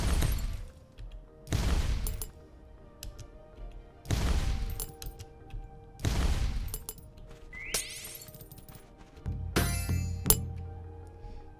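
Bombs explode one after another in the Sproggiwood dungeon game, each a loud, crashing burst with a shattering edge that fades before the next, about every two seconds, and a final blast over a low hum.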